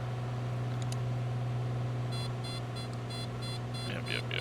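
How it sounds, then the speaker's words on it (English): Repeated electronic cockpit warning beeps from an aircraft in Microsoft Flight Simulator sound in a steady rhythmic series over a constant low engine drone, with brief talk near the end. "Deal with some beeping for a second."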